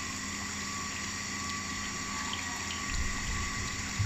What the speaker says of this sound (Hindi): मोटर चलाई हुई है कब तक, पानी तो लग रहा नहीं आ रहा।